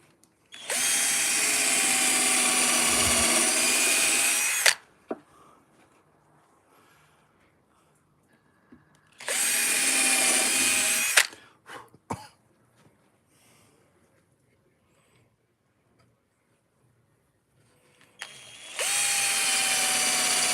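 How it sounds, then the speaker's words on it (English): A power drill bores into wood during a beginner woodcarving job, running in three loud, sustained bursts of several seconds each with quiet pauses between, plus a few short knocks and a throat clear in the gaps. "drill it quick"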